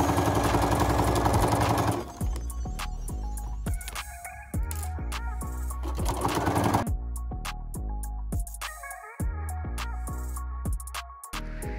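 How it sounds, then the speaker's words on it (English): Sewing machine stitching around the edge of a reversible fabric bucket hat, with short bursts of rapid mechanical whirring that start and stop in a loose rhythm, close and clear, alongside soft background music. "Stitch around the perimeter at a quarter inch,"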